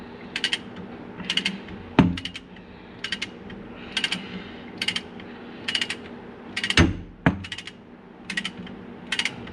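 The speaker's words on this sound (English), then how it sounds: "take your gigantic torque wrench, because my small one don't go down to 80. But this torques at 80 foot-pounds" A large torque wrench tightens a clutch bolt to 80 foot-pounds on a Can-Am Maverick, giving repeated rapid ratcheting clicks in short evenly spaced bursts with a couple of sharp metallic knocks, close up and without talk.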